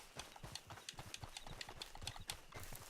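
Horse hooves clip-clop in a video game, a rapid steady run of sharp hoofbeats at a moderate level, continuing evenly throughout.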